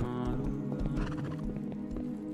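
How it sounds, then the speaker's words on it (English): Many horses in the survival game Rust neigh and whinny over a dense, steady clatter of hooves, loud and continuous like a herd milling close by. "That's a lot of horses."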